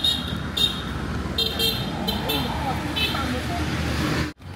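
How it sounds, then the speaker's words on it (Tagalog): A motorized tricycle passes on a busy road, its engine droning loudly up close amid traffic and several short horn toots, with people talking over it. "Tricycle."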